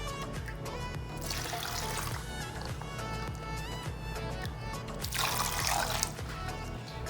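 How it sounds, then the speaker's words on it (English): About 2 cups of water runs and splashes steadily into a cooking pot, swelling briefly twice, with low background hum beneath. "We're going to be adding about 2 cups of water."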